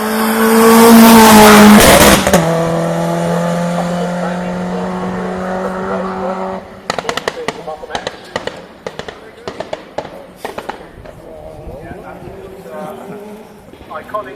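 A turbocharged 2-litre 1992 X-Works rally car on a classic hillclimb roars close and loud at full throttle, then drops to a steady drone broken by a rapid series of sharp pops and bangs from the exhaust.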